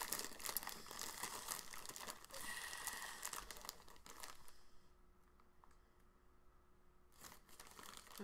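Close, crisp crinkling and tearing of plastic packaging for several seconds, then it drops to near quiet before a final rustle.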